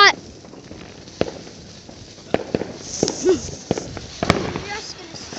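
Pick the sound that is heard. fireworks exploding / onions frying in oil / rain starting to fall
fireworks exploding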